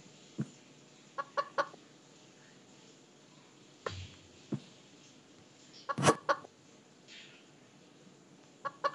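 Clucking chicken sounds from the Evil Nun 2 horror game come in scattered short bursts and clusters over a low steady hiss, moderately faint, with one louder sharp cluck midway.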